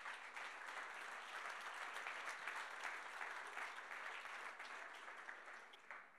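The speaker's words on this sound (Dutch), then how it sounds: "Geef haar nog een hartverwarmend applaus." A conference audience at a business talk event gives warm, sustained applause: a thick, continuous roar of many hands that stays level, then begins to taper off at the end.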